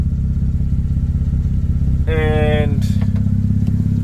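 A Mazda RX8 rotary engine idling at about 1,000 RPM, a steady low mechanical drone throughout, with a brief voice over it partway through and a couple of short clicks near the end.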